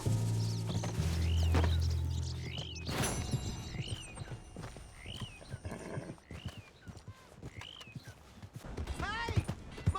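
Horse hooves clip-clop in Red Dead Redemption 2, paired with repeated neighs and whinnies, while people talk over the game soundscape and a few birds chirp in the background.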